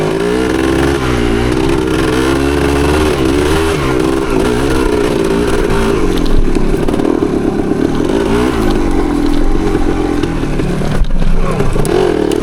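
A 1975 Yamaha DT250 two-stroke trail bike runs close and loud on a dirt trail. The engine holds a steady buzzing drone with small rises and falls in revs, and some rattling clatter mixes in.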